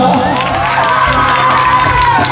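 A crowd at a live Maithili jat-jatin folk performance claps and cheers loudly; whoops and shouting ride over dense, continuous applause, with a few voices audible.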